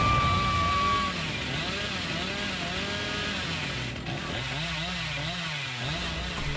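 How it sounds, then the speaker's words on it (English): A chainsaw revs with a steady, wavering buzz in a horror video game as the Hillbilly killer closes in, moderately loud and continuous with talk underneath. "Here comes the man with the chainsaw!"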